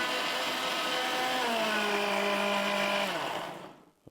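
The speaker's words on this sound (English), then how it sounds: "I'm going to use the same blender." A blender runs steadily for about three seconds while blending coconut milk, its motor pitch sliding lower under load before it switches off and winds down, followed by a small clink.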